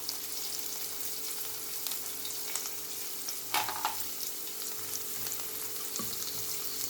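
Kasuri methi frying in hot oil during chole preparation: a steady, close sizzle with a brief crackling burst midway and a soft clink near the end, with no talk.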